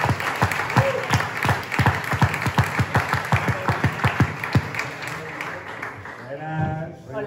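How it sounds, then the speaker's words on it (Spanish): Applause from a live audience at a board-game festival gala show in Barcelona, a steady wash of many hands clapping for several seconds before tapering off as a voice begins near the end. "por favor, un aplauso"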